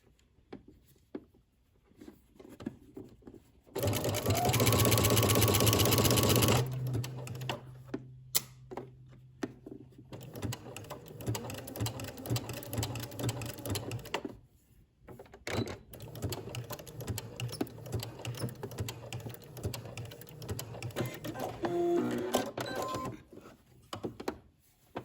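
A home sewing machine stitches the side seam of a Simplicity 8874 maxi dress, running loud and steady in a burst of a few seconds, then continuing in quieter, broken stretches of stitching with pauses between.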